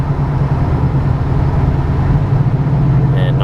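A 1996 Roadmaster wagon with an LT1 engine accelerates as it drops out of overdrive, giving a steady, heavy low engine drone with constant road and cabin noise and no clear break in the sound.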